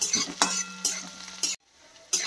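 Cumin seeds with green and dried chillies stir-fried in hot oil, loud spatula scrapes against the pan in repeated strokes over a sizzle, with a short quiet gap before the stirring resumes.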